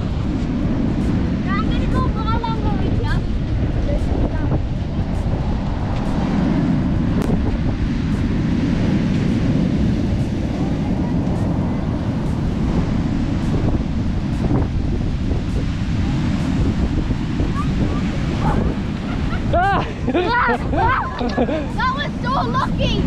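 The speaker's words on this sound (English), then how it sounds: "We're out at South Shields Coast today. The waves are pretty crazy." Rough surf crashes continuously along the English coast at South Shields, a broad roar mixed with heavy wind buffeting the microphone, with voices talking faintly over it throughout.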